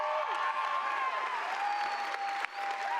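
A high school graduation audience claps in a large venue, a continuous wash of applause with a tonal background sound running through it and a brief dip near the end.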